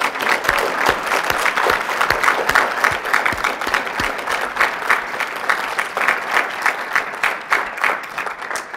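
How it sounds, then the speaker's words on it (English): Audience applause after a speech at a talk on juvenile justice: sustained, full clapping from many hands, steady and fairly loud throughout, with a few sharper nearby claps standing out. "One more round of applause."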